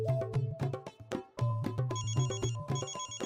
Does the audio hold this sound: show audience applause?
no